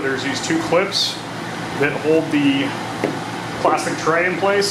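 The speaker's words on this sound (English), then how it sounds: "so I have my portable air conditioner back behind me." A portable air conditioner runs behind someone working on a motorcycle, giving a steady, even whir under continuous close talking.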